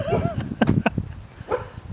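A puppy gives short yips and whimpers close by, mixed with faint rustling and background noise at a catch basin cleanup.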